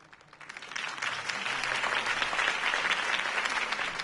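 Loud crowd applause in the video game Batman: The Telltale Series rises within the first half second and holds as a dense, steady wash of clapping to the end.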